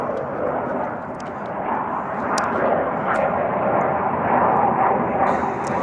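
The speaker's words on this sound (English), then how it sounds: "This is the plane's going over right now" A loud airplane passing overhead gives a steady, dense engine roar that fills the whole stretch, swelling slightly louder near the end, with no talking.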